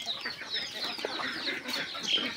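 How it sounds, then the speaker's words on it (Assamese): Chickens cluck on a poultry farm, giving a string of quick, fairly faint clucks and short calls with no talk. "এইবিলাক মুৰ্গীবিলাক ঘূৰি আছে, এইবিলাক হাঁহবিলাক ঘূৰি আছে"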